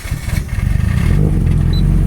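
A noisy car engine cranks and catches, its loud pulsing firing quickly settling into a steady, rough rumble with no voices over it.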